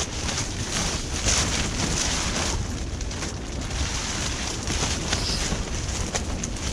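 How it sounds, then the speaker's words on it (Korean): Strong wind buffeting a winter bivouac at minus 20 degrees: a continuous loud roaring rush with gusty surges and flapping, close to the microphone and without talk. "바람 센 줄은 알고 있었는데"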